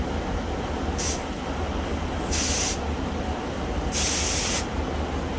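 Air bleeding from an AC refrigerant charging line comes out as three short, sharp bursts of hissing spray mist, each about half a second long, against a low steady background hum.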